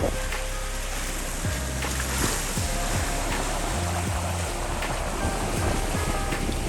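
A sailboat moving through waves on a solo trip around Vancouver Island, with continuous water wash and hull rush, low rumbling wind buffets and a faint background hum.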